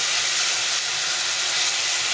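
Spices and chili powder cook in a pan with a splash of water for a Bengali fish curry, giving a steady, loud, bright sizzling hiss throughout with no voices.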